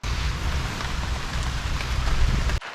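Rain pours steadily onto a tarp shelter at a provincial park campsite, a dense close drumming hiss with low patter that holds throughout before cutting off abruptly near the end.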